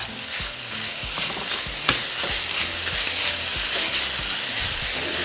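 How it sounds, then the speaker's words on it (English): Potatoes frying in a pan with extra oil added make a steady, loud sizzle with bubbling crackle and occasional stirring clinks throughout. No one speaks. "I'm just going to add a little bit more oil to fry the potatoes a little"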